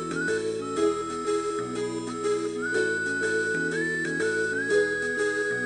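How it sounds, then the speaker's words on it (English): A whistled ending theme from a Mario and Luigi video game carries over a steady instrumental backing, each note held and sliding gently between pitches at an even, relaxed pace. "It's just a whistle solo."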